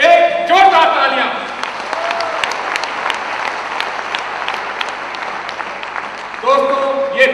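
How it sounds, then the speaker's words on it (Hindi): Enthusiastic applause from an audience at a Safe Shop business recognition event, with a speaker's voice briefly at the start and again near the end framing a steady burst of clapping. "इनके धन्यवाद में, इनके वेलकम में एक जोरदार तालियां"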